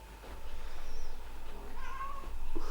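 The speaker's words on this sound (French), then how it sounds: "Voilà, vous avez un petit bonjour du chat." A house cat meows a few times, soft and fairly close, with quiet background noise and no talking.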